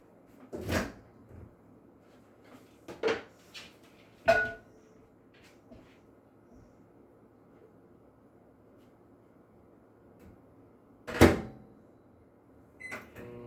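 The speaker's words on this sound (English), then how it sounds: "We're going to stick that in the microwave." Kitchen microwave oven rated at 1,000 watts being loaded with a paper-towel-covered bowl and started: scattered knocks of the door and bowl clatter, a few brief beeps, then a soft steady hum at moderate distance, with no talk.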